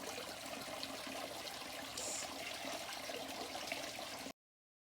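Water running steadily for a hair wash outdoors, a continuous close hiss and splash at even strength that cuts off abruptly near the end.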